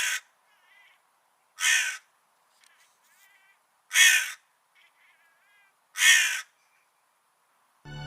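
Cartoon crows cawing in a hot, dry forest, four loud separate caws spaced about two seconds apart, with faint chirps between them.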